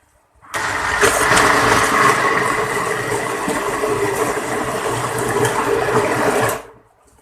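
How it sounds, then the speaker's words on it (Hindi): An electric blender runs on haleem ingredients with about three-quarters of a cup of water under a closed lid. It whirs loudly and evenly for about six seconds between brief silences at the start and end. "इसे हम ब्लेंडर में ब्लेंड करेंगे"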